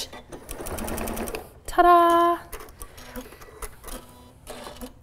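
A sewing machine backstitches a throw pillow in short whirring bursts, the loudest run in the middle, with a person speaking briefly near the end.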